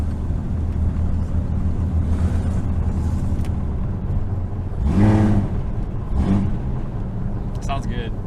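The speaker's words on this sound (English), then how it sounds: "It doesn't sound like most Jeeps around here. No. It sounds meaner than just an inline 6." A 1988 Jeep engine idles steadily and rumbles low and loud throughout, with brief voices talking over it near the middle and toward the end.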